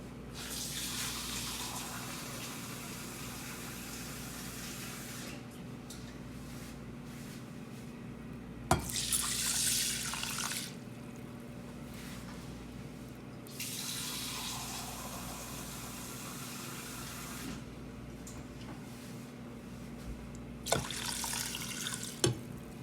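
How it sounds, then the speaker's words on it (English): Water runs steadily from a tap in bursts, rushing and splashing as it fills a container, with pauses between flows. "And then I'm going to add 2½ cups of water."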